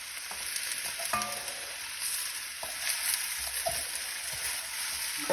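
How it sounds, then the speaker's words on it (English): An udon noodle, chicken and bok choy stir fry sizzles steadily in a pan at medium heat, with a few light stirring knocks over the continuous frying hiss. "Give it a stir."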